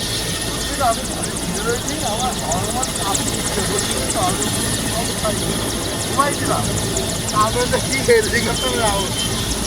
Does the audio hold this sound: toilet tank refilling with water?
no